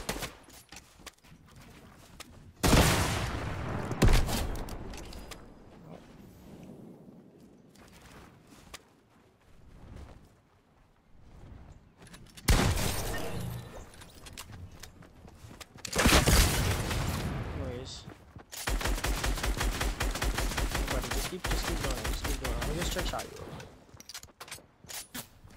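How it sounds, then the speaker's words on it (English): Gunfire in a solo squads shooter game, several bursts of rapid shots and booms separated by quieter stretches, with voices talking at times. "Stop shooting at me."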